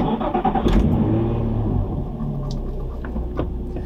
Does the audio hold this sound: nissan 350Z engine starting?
yes